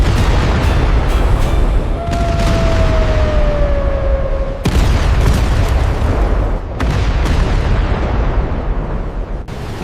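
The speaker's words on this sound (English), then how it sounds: "American naval guns open fire. The thunder rolls across the Mediterranean. Huge shells slam into the Sicilian coastline." American naval guns bombard the Sicilian coastline near Gela, heavy rumbling booms and shell blasts rolling in a dense, continuous barrage with sharp distinct impacts around the fifth and seventh seconds and a brief whistling tone beforehand.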